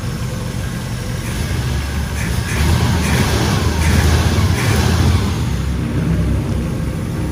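A 1967 Chevrolet Camaro RS/SS's 350 cubic inch, 295 horsepower V8 engine idles steadily and loudly throughout, a low rumbling drone that swells slightly for a few seconds in the middle.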